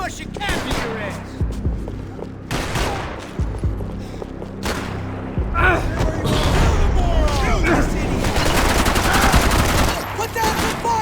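Bursts of suppression gunfire in the video game Max Payne 3: repeated loud volleys and rapid shots cutting in and out, with intermittent shouted voices mixed in.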